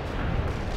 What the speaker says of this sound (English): Artillery strike is in full speed.